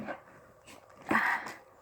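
A big dog whimpers softly in a brief, whiny whine that rises near the end, close to the microphone in a quiet room.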